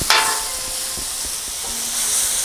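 Steak sizzling on a Blackstone flat-top griddle over a single burner, a loud continuous hiss that flares at the start, with a few soft scrapes and taps beneath and no voices.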